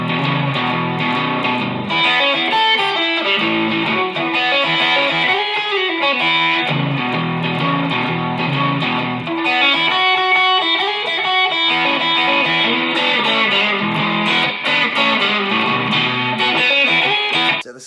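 An electric guitar with distortion plays a blues instrumental for about eighteen seconds, a continuous run of twangy bent notes, shuffling licks and chords that is loud and alone.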